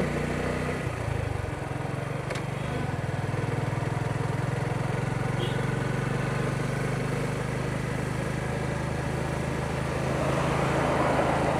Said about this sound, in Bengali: আপনাদেরকে মোটরসাইকেল আস্তে আস্তে চালিয়ে দেখানোর চেষ্টা করছি